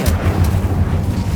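Casting the Incendio fire spell in Hogwarts Legacy gives a short, close, deep whooshing rumble of flame that fills the whole brief moment.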